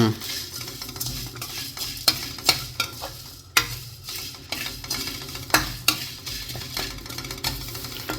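Curry leaves are dry-roasted in a pan without oil, with a spoon scraping and stirring in repeated clattering strokes over a soft crackling sizzle, close and fairly loud, with no voices.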